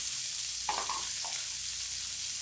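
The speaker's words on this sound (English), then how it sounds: "Same oil, same good stuff in there. We're gonna add the onions, carrots, sweet peppers" Onions, carrots and sweet peppers frying in oil give a steady, close sizzle, with a couple of brief stirring scrapes partway through.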